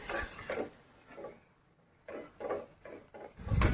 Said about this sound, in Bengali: বড়াগুলোকে নাড়াচাড়া করে একটু কালার করে ভেজে নিতে হবে